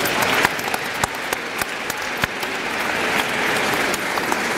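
A crowd at a college athletics award ceremony applauds, dense steady clapping close by with several sharp, distinct claps standing out near the start, sustained without speech.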